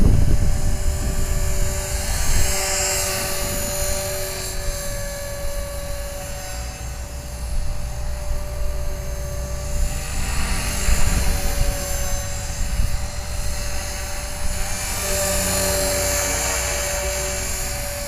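A 450 Pro RC helicopter flies outdoors, its high whining rotor and motor buzz steady throughout, swelling and fading as it passes nearer and farther, with no talking.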